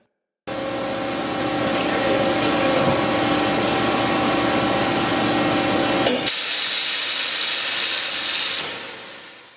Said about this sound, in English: psi pump that uses a 40 thousandths diameter jet stream to precisely cut through most metals